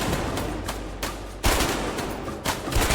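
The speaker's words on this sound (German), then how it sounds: "Wer schießt denn da? Ach, die schießen da raus." Enemies fire repeated gunshots and automatic bursts in the video game A Way Out, loud and close. Sharp reports punctuate a dense, steady stream of fire with no voices.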